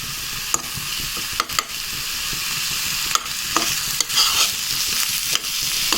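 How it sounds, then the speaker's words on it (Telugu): Potato masala filling being stirred and mixed in a frying pan, repeated spoon scrapes and clicks over a steady sizzle, close. "నెక్స్ట్ వీటంతటిని బాగా కలుపుకోవాలి."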